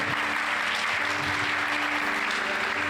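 A church congregation bursts into applause during a sermon, dense continuous clapping from a large crowd that stays loud and steady with no break.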